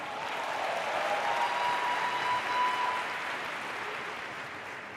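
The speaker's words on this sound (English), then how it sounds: "Can you guys give Sharice a huge round of applause" Audience at a business conference applauds steadily for about five seconds, a dense wash of clapping from a large crowd in a hall, without any speech.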